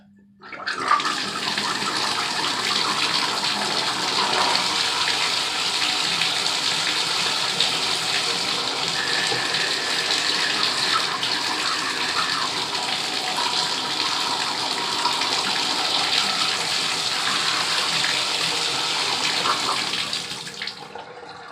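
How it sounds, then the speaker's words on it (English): Water gushes steadily from a bathtub faucet after the supply is turned back on following an O-ring repair on the leaky tap, a loud continuous rush filling the whole stretch without talk. "I just turned the water back on outside, and let's see what we have"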